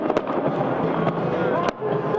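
Fireworks bursting at the Plaza Lights ceremony in Kansas City, rainy evening crowd outdoors: a crackling barrage with several sharp bangs over a dense wash of crowd noise and distant pops.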